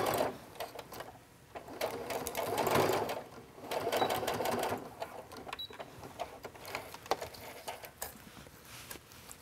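Sewing machine stitching down zipper tabs on a lined wetbag, running in short bursts of rapid needle chatter with pauses and faint handling clicks between, close and fairly quiet.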